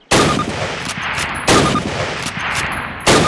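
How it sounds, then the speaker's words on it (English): Three loud rifle shots fired at a target during Call of Duty (2003) training, evenly spaced about one and a half seconds apart, each a sharp crack followed by a long rolling echo. "Fire 3 more rounds at your target."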